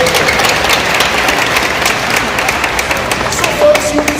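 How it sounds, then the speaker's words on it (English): Audience applause at an animal show where trainers play a head-touching game with the animals, a steady, fairly loud wash of clapping throughout with some voices mixed in. "Oh, what a nice big round of applause for him and for him."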